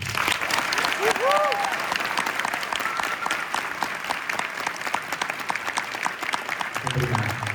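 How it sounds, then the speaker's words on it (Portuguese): A large crowd at a medical school graduation ceremony claps steadily and loudly for the graduating class, a continuous wash of applause with a few voices and a cheer rising at moments. "vamos dar a eles a maior salva de palmas do dia de hoje"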